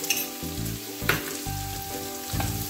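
Onions fry with salt in a pan, hissing in a close, steady sizzle broken by a few soft stirring knocks.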